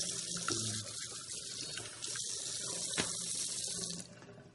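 Juicer containers are rinsed under a running kitchen tap, giving a steady close hiss of flowing water with small splashes as the parts are moved, then cutting off near the end.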